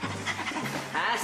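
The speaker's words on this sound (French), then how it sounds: "Ouais, beau chien, veux-tu un biscuit, le beau chien?" A dog pants in quick breathy bursts, close, for a second or so while a person talks over it.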